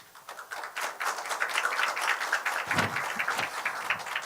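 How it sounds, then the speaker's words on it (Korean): Moderately distant applause from a forum audience welcoming a professor to give a keynote, many hands clapping steadily, building slightly partway through. "오늘 큰 박수로 우리 교수님 맞이하면서"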